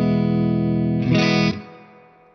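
A guitar amp's first channel, set for a thick clean tone, rings out a sustained chord with full, warm lows. A brighter strum briefly lifts the top end, then the sound fades out with no one speaking.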